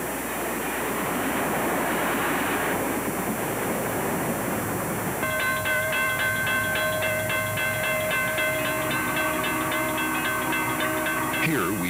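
An Illinois Central steam locomotive hauls a passenger train in Kentucky. A steady, loud rumble of running gear comes first, then a sustained multi-tone whistle sounds over it for the last several seconds.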